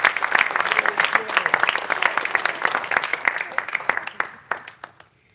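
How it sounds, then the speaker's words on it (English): A church congregation gives a round of applause during a service, steady dense clapping that thins into a few scattered claps and fades out. "Let's give them a nice round of applause."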